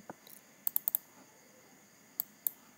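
Sharp computer mouse clicks while operating Proficy Cimplicity HMI SCADA software: a quick burst of four clicks early on, then two more spaced clicks near the end, close and crisp over a quiet background.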